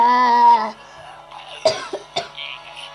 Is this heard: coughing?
yes